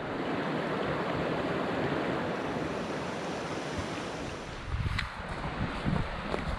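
Water of Conway Creek rushing in a steady, dense wash, heard outdoors with some wind buffeting, and a few brief footstep-like thumps near the end.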